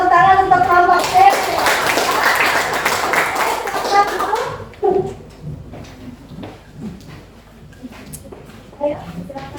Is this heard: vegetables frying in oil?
no